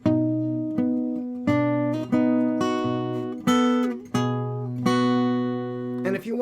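Fingerpicked acoustic guitar playing two measures of a song, with a steady alternating bass and ringing chord notes plucked evenly, close and clear with no talking.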